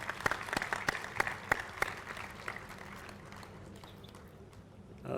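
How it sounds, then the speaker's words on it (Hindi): An audience at a hotel event in Lahore claps for a shield presentation, with a burst of sharp, scattered handclaps that thin out and fade, leaving a quiet room before a final swell. "तालियों की गूंज में प्लीज़।"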